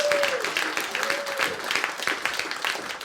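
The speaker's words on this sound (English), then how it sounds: "Please welcome him up here with a round of applause and love in your hearts." An audience applauds to welcome a speaker, an A&E doctor from the Royal London Hospital, at a political event, steady clapping from many hands throughout with a brief tone sounding at the start.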